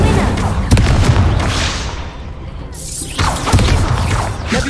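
Incendio fire spell cast in the Hogwarts Legacy video game, a loud booming burst followed by a roaring, crackling whoosh that fades and then flares up again.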